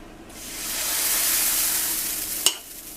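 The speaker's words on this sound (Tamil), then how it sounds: "நம்ம தோசையை ஊற்றிடலாம்." Dosa batter hits a hot griddle and a loud, close sizzling hiss swells up and holds steady, with a sharp click or tap near the end as it fades slightly.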